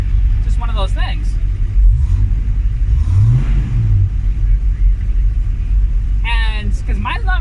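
A fairly quiet 1981 Mustang idles with a low rumble at a street car meet and briefly revs, the engine pitch climbing and falling back. Crowd noise and sharp chirps surround it.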